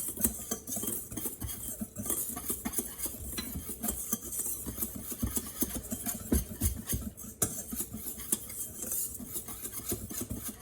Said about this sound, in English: it didn't tell me to sift, so I just use my whisk